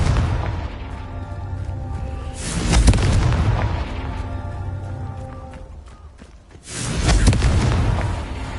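Confringo explosion spells from Hogwarts Legacy go off as two loud, booming blasts a few seconds apart, each swelling and rumbling away over a steady ambient game background with no talking.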